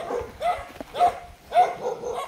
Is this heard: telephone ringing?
no